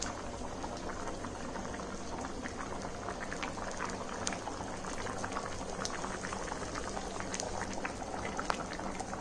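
Chickpea curry (kadalai curry) boils steadily in a pot, giving a dense, continuous bubbling and popping at an even level throughout, with no talking.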